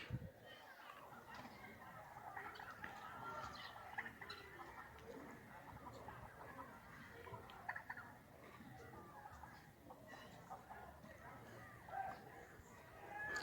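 Turkeys and chickens at morning feeding time on a ranch, a steady busy chatter of clucking and gobbling fowl close by, continuous throughout with a person moving about among them.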